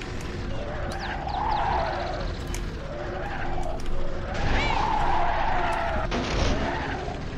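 Vehicle skidding in the video game Banjo-Kazooie Nuts & Bolts, repeated swelling tire-screech and engine whine in several bursts, with short electronic game effects layered over them and no voices.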